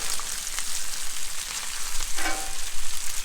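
Bacon strips sizzle on a Blackstone griddle with a loud, continuous hiss and crackle and a brief scrape partway through.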